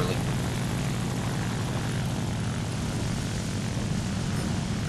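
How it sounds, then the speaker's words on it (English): Biplane in War Thunder, its propeller engine droning loud and continuous, a dense buzzing roar that holds steady from start to finish. "There's another biplane"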